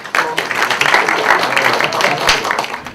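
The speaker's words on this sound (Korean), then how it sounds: "박수 한번 쳐주세요" Applause in a university lecture room, a brief, fairly loud burst of clapping from a class that carries on steadily for a few seconds.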